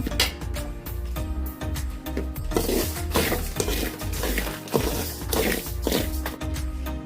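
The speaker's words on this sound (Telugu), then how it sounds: "ఇలా కొద్దిగా వేయించుకోవాలి దోరగా కొద్దిగా దోరగా వేయించుకోవాలి లైట్గా" Sprouted ragi grains dry roasting in a pan, stirred steadily so the grains scrape and rattle against the metal in a busy, continuous rhythm with faint sizzling underneath.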